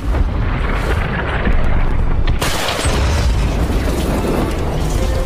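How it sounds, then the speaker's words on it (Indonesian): A tank blows apart in a film scene, a loud deep boom and blast that swells into a heavy, sustained rumble of debris and fire, with a second surge midway, alone and close. "serangan August tepat sasaran dan menyebabkan tank hancur berkeping-keping"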